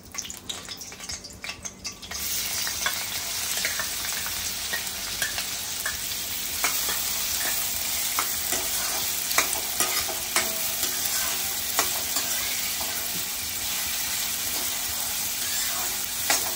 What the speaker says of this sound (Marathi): फोडणी थोडी तडतडली कांदा घालायचा आहे